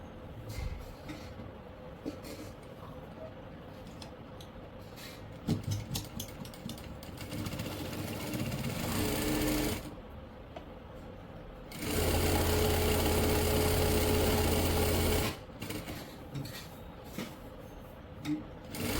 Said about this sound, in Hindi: अब हम यहाँ से सिलाई लगा लेंगे दोनों बाजू पे